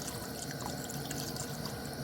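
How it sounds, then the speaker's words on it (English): Water pours steadily into a pot holding a large organic farm chicken for a Korean spicy chicken and vegetable soup, a continuous close splashing trickle with no talk. "So I'm gonna add more water"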